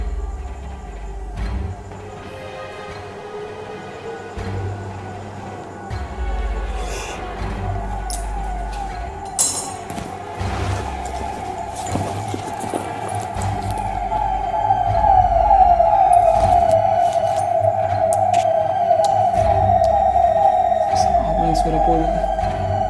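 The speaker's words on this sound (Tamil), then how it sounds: "ஆம்புலன்ஸாக போலிச்சுப்பான்னு தெரில." An ambulance siren wails near a house, rising and falling in repeated sweeps that grow louder toward the end, with rumbling traffic and other noises underneath.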